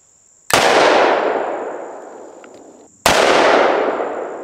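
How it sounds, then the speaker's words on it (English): Two sharp, very loud shots from a Bond Arms Cyclops .45-70 single-shot pistol, each a sudden blast trailing off into a long ringing echo, spaced a few seconds apart. "Another one of Jeff's rounds"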